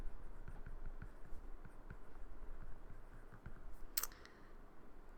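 Pencil writing on paper for a practice test, soft scratchy strokes and light taps in an irregular rhythm, faint and close, with one sharper click near the end.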